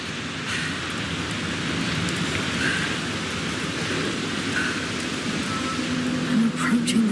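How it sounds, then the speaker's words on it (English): Steady heavy rain and rumbling thunder from a video game storm, a dense continuous wash with low rolling booms throughout, loud and close, with no voices over it. "The storm's getting worse."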